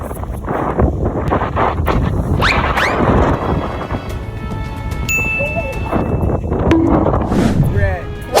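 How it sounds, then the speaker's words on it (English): Strong hurricane wind roars and buffets a microphone outdoors in Florida during a basketball shooting session, a loud continuous gusting rush with a person talking over it. "This wind is not holding me back."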